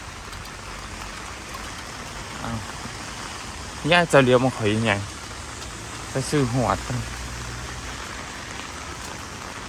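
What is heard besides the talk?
rain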